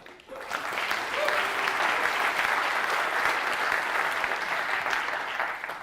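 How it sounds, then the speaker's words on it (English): A conference room audience at a configuration management event gives a big round of applause, a dense sustained clapping that swells quickly and holds evenly, moderately loud, with no one speaking over it. "a big round of applause"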